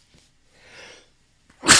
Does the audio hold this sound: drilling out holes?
no